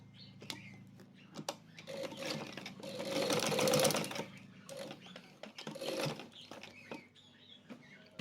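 A sewing machine stitches the waistband of a sarong in short bursts of rapid rattling needle strokes, swelling louder in the middle and separated by brief pauses and small clicks, close up with no speech.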